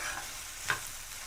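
Okra fries in a pan and is stirred now and then, giving a soft, steady sizzle with one brief scrape of the spoon partway through.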